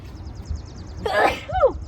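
A single sharp sneeze bursts out close by in a garden in early spring, preceded by a short inhaled gasp and followed by a brief vocal tail, with faint chirping birds in the background.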